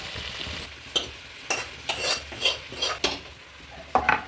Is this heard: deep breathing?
no